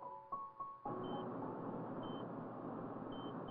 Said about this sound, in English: something is beeping